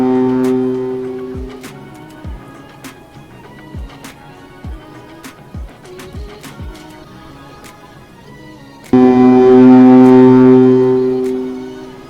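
A ship's deep horn blasts loudly at sea, first in short repeated pulses, then a long sustained blare that swells and slowly fades.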